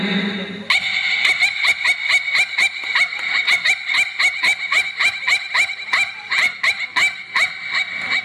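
On a stage show, a performer's voice imitates a Pomeranian dog barking. A loud, fast run of sharp, high yaps repeats in a steady, almost mechanical rhythm for several seconds.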